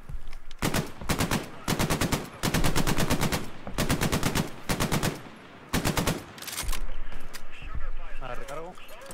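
Repeated short machine gun bursts in Hell Let Loose, an Omaha beachhead battle, fire in a quick, loud stop-start rhythm with brief gaps, while a voice talks over the shooting.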